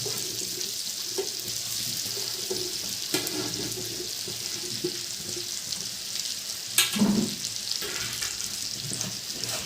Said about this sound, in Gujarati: આ રીતનું હવે મેથીના મુઠિયા નાખી દઈએ આપણે